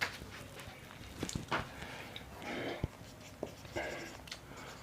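Chalk or a marker writes on a board during a matrix mathematics lecture, giving scraping strokes and a few sharp taps at close range with no talk.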